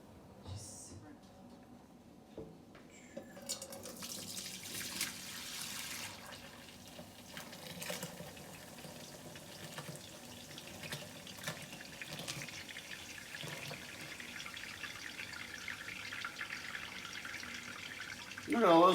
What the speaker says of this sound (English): So we're gonna pour that through that and then put the strained, filtered stuff back into the bowl.